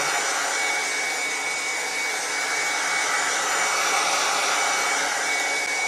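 A heat gun running on its first, lowest setting while working on a micro stepper driver IC, a loud, steady airy blower hiss held close with no break.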